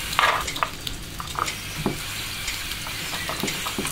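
Food sizzles in a frying pan, a steady crackling hiss with small sputters and pops, close and alone with no voices.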